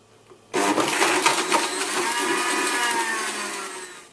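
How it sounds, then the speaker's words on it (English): A blender kicks on abruptly and whirs loudly on high, churning a honey smoothie in a steady, gritty roar that holds for several seconds before easing slightly. "you want to blend this for about 20 seconds on high"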